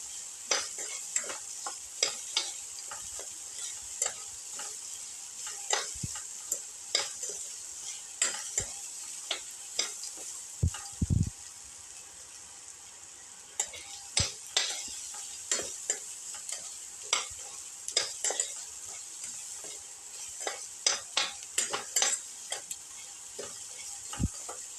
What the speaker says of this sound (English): Put in salt to taste, salt, keep on sauteing.